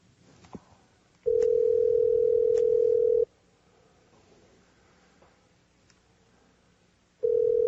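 Ringback tone on a live phone call, heard as a steady electronic ring lasting about two seconds, then a pause with faint background, then a second ring beginning near the end.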